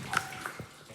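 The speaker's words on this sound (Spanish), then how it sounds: "Tan mojada y siempre goteando del techo" Water drips from the wet ceiling inside the Griffith gold mine tunnel, a few quick splashy drops landing close over a damp, echoing background.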